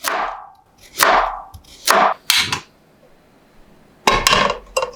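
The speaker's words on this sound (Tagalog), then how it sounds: "Hiwain natin ng maliliit para mabilis palambutin." Knife chops through carrots on a cutting board in quick bursts of several strokes, with short pauses between, close and clear.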